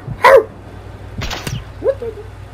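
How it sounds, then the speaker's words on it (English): Dogs in Call of Duty Modern Warfare Remastered give a few sharp barks and a short whimpering yelp, spaced apart over a quiet low background hum. "The dogs is out."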